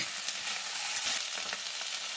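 Spices such as cumin paste and ground black pepper sizzle in a pan while being stirred for a chicken makhani dish, a soft continuous crackling fry with faint scraping stir strokes.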